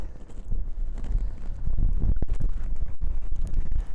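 Strong wind in a small canyon on Norway's Lofoten Islands buffets the microphone with a rough, roaring rumble that swells louder partway through, with a few faint rustles and knocks underneath.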